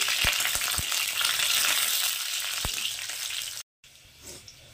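Chopped garlic and a bay leaf fry in oil in a pan, a steady close sizzle broken by a few sharp knocks of a spoon before cutting off, then a quieter hiss.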